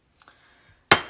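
A glass sourdough discard jar gives a faint light clink, then two sharp, bright glassy knocks close together at the end.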